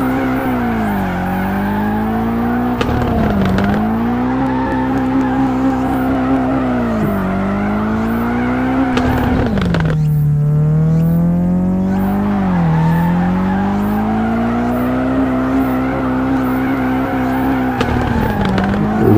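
A car in the FR Legends drifting game drones loudly at high revs with shifting engine pitch, a brief drop around the middle then rising again, tires squealing as it fails to hold a drift, with no talk.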